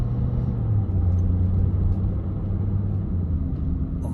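A car drives through Carlos Place in Mayfair, London, its engine a steady, loud low rumble with continuous road noise that holds level throughout and carries no talk.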